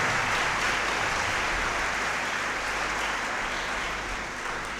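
Congregation at Sunday Mass applauding to thank missionary fathers, a broad, even roar of clapping that sustains throughout and tapers slightly at the end, with no speech.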